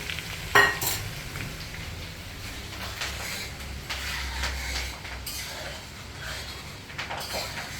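Tempering sizzling in hot oil for red chili pickle, a steady crackling fizz that continues throughout with a sharp pop near the start and occasional stirring scrapes, no talking over it.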